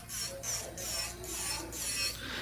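Close, quiet grinding of an electric nail drill with a 5-in-1 bit filing nails in short repeated passes, the buzzing rasp rising and easing in a steady rhythm.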